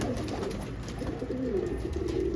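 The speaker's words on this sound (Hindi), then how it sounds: "देखो ये रहा नफ्ता काटदार क्वालिटी कबूतर की," A domestic pigeon coos in a steady, close, rolling series of low throaty calls, with no talk over it.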